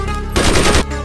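A gun empties its magazine in a Sindhi TV drama: a loud, rapid burst of automatic fire lasting about half a second over a steady tonal background.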